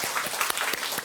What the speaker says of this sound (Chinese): 来，我们鼓掌一下。